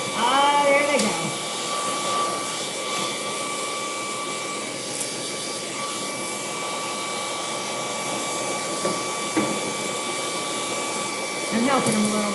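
A steady whooshing blower hum runs throughout, like a hair dryer on high, with faint voice fragments at the start and end.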